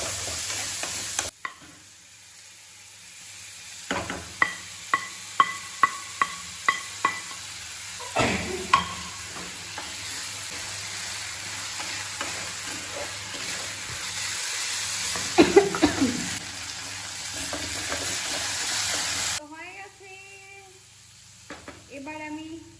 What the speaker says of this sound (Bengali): তো একটুখানি ফ্রাই করে নিই